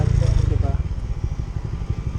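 A Honda Click 125i scooter fitted with an EXOS X6 aftermarket exhaust idles with a steady, low, throbbing engine pulse that runs the whole time, close and moderately loud.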